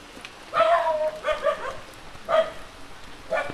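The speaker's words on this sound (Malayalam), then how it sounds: "പട്ടി" A dog lets out four barks in separate bursts, fairly close and moderately loud, with quiet background noise in the gaps between them.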